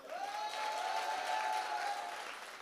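Applause from the audience at a Hindi comedy poetry gathering, soft and distant, steady clapping under a sustained tonal hum across the whole stretch.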